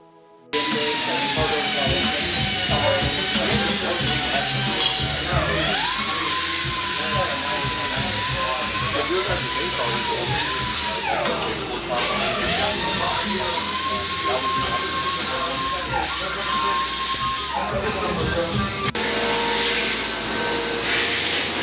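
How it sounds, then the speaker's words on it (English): Loud continuous machining noise in a speed and performance workshop, with a whining pitch that rises and falls in cycles, over a steady hissing roar, with voices faintly mixed in. "It may be a little loud because of all the machining going on."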